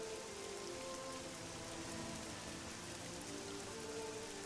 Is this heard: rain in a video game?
yes